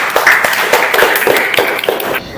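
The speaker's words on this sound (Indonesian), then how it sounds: "Tepuk tangan untuk kelompok 2." A classroom group applauds for group 2's presentation: close, steady clapping from several people, with dense overlapping claps running for a couple of seconds before fading slightly.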